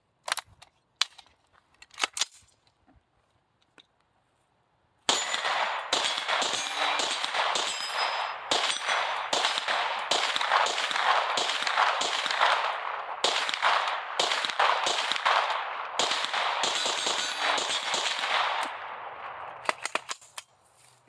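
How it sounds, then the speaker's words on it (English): A New Frontier Armory C5 AR pistol fires a long, fast string of loud, close shots after a few scattered handling clicks, the rapid reports running almost continuously for about fifteen seconds before stopping. "Put a few more rounds through this thing."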